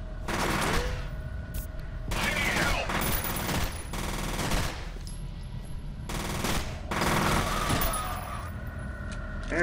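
Loud automatic gunfire in the first-person shooter F.E.A.R. arrives in four or five separate bursts spaced a second or two apart, each a dense rattle, with quieter game ambience between them.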